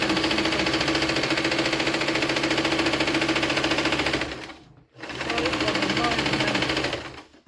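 A fairly loud sewing machine hums and rattles at a steady fast pace for several seconds, stops briefly, then starts up again, close by and continuous.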